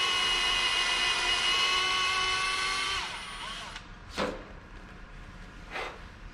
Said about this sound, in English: And then drill out all 10 of these